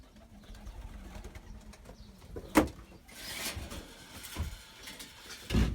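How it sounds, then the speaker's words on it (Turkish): Pigeons flap into the air in short bursts of wingbeats scattered over several seconds, fairly faint and close, with no voices. "Ne oldu güvercinler bile kalktı."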